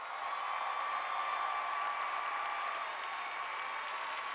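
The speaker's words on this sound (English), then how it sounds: "While we're applauding, keep it going." At the Miss America 2012 pageant, a theater audience applauds the welcome of Miss America's Outstanding Teen. The clapping is a steady, dense roar that holds at an even level from start to finish.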